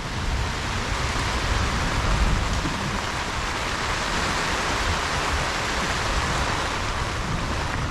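Steady heavy rain falls outside a carport on a farm homestead, a dense unbroken hiss and patter that stays loud and even throughout with no voices.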